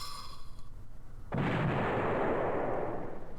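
Tank gunfire in the video game Steel Panthers: one sharp, loud cannon blast followed by a long, heavy rumbling decay, then a brief second click at the end, after a quiet stretch of faint tones.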